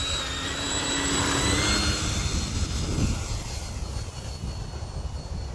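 An electric motor drives an H-King Wargo Edge 540T ARF RC airplane, its steady high whine close by and loud, swelling slightly and then easing down a little toward the end.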